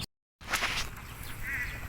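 Ducks and geese by a wide river in Morong, Rizal, give a few quacking and honking calls at moderate distance over an outdoor background, after a brief silent gap at the start.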